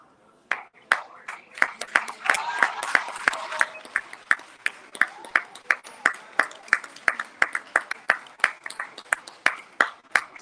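Steady rhythmic clapping from a small gathering at a 2022 institute commencement ceremony, loud and close, about twenty sharp claps in a regular beat, with some cheering and voices mixed in early on.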